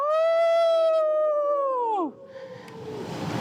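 A crowd of people imitates a wolf howling together at an outdoor storytelling event, one long loud sustained howl that slides downward and cuts off, followed by low crowd murmur.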